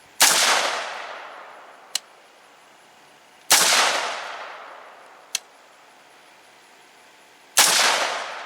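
Three rifle shots from a 14.5-inch Expo chrome-lined barrel crack out loudly at intervals of roughly three to four seconds, each with a decaying outdoor tail, and a faint sharp distant impact follows the first two.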